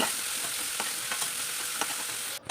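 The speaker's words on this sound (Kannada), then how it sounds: "ಇತ್ತೆ ಒಗ್ಗರ್ನೆಗ್ ಎಣ್ಣೆ ಚೂರು ಜೀರಿಗೆ ಬೇಸೊಪ್ಪು ಶುಂಠಿ ಬೆಳ್ಳುಳ್ಳಿ ನೀರುಳ್ಳಿ ಸರಿ ಫ್ರೈ ಮಲ್ತನೋಡು." Cumin, curry leaves, ginger, garlic and onion sizzle in hot oil as a tempering, a dense close hiss with a few light stirring clicks, ending abruptly.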